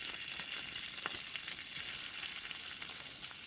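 Packaged garlic and coriander topping for molokhia sizzles and fries in hot oil, a steady, close crackle with a few soft stirring pops and no voices.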